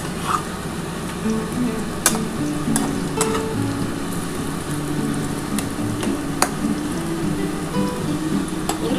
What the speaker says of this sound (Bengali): আর এই কটা আছে বন্ধুরা আমি ভেজে নিই, ভেজে তোমাদের তারপর দেখাচ্ছি।